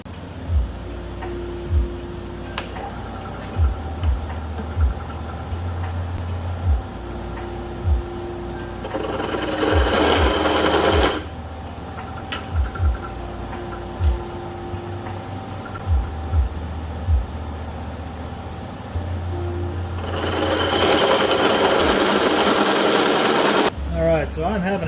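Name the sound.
drill drilling with a new drill bit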